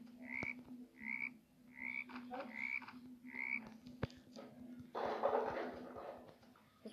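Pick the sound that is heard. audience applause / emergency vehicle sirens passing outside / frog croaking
frog croaking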